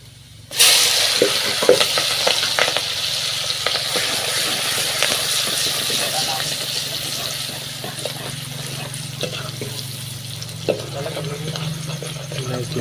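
Onion and potato vegetables frying in a pan, a steady sizzle running throughout with occasional stirring clinks and scrapes, close by, with faint voices in the background.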